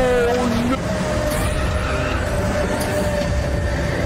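A car from the racing game Need for Speed: The Run drives through a subway tunnel, its loud engine and rumbling, rail-like roar filling the space, with a brief pitched whine near the start.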